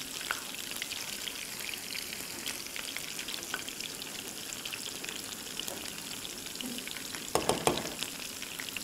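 Onions frying golden in oil and being stirred, giving a steady close sizzle throughout with a few louder stirring scrapes near the end.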